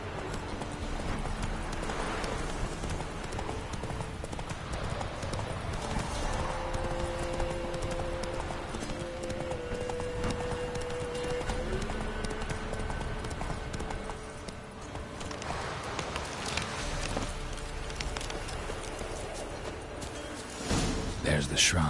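Horse hooves clip-clop at a steady gallop-like rhythm while riding in The Witcher 3, with a voice speaking over parts of it and game ambience and music in the background.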